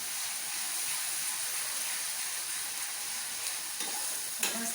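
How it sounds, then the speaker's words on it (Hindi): Spice masala with Kashmiri chili frying in oil in a pan, a dense, steady hiss of sizzling with a few faint stirring clinks near the end. "अभी थोड़ा सा बस मसाला भुना जा रहा है"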